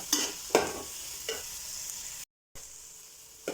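Onions sauté quietly in oil in a pan for chicken curry, a low sizzle with a few scattered spatula scrapes, interrupted by a brief dead-silent gap before one more stir.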